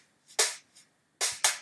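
Layered 909 snare samples, left and right, played together: crisp noisy snare hits in an uneven pattern, two softer ghost hits and four loud sharp cracks, each decaying quickly into silence.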